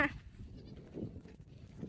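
Goats on a farm, a herd bleating softly at a distance in a brief, quiet stretch with faint background rustle.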